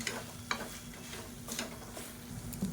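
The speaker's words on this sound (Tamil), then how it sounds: "இப்போ அந்த சாதத்தை போட்டு நல்லா மிக்ஸ் பண்ணிவிட்டுக்கலாம்." Cooked basmati rice being stirred into a soya chunks thokku in a pot, with soft scraping strokes and a few spoon clicks over a faint sizzle.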